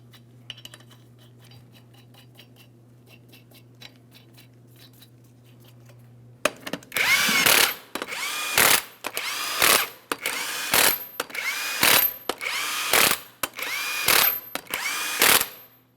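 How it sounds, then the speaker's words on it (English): Impact wrench running lug nuts onto a front wheel of a 2007-2014 GMC Sierra 2500 HD truck, a quiet hum then about nine loud rattling bursts in steady succession, close up. "Once you have the wheel in place, start on all 8 of your 22mm lug nuts."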